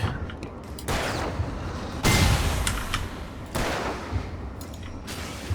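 Gunfire aimed at an enemy in the video game Alan Wake: several loud, sharp bursts of shots spaced a second or so apart, each ringing out with a broad crack over a steady background rumble, no talking.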